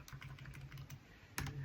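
Rapid keystrokes on a computer keyboard, a quick run of light clicks followed by a short pause and a louder tap, close and quiet, with no speech.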